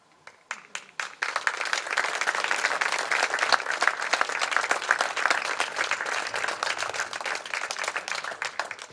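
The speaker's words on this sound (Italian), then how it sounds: "Applauso a Mauro Ciardo" A few scattered claps quickly swell into sustained, full audience applause at the Premio Monteduro 2020 award ceremony as a photography prize is presented, holding loud and even throughout.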